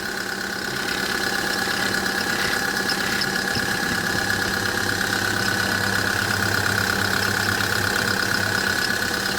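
A diesel engine in a Kia Bongo III 1.2-ton manual truck idles steadily nearby, a constant throbbing hum with a faint knocking rhythm and no voices.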